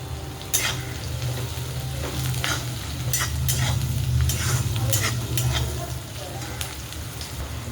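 Green peas and turmeric frying in hot oil while being stirred, a constant crackling sizzle with periodic scraping strokes of a spoon, close up, over a low steady hum.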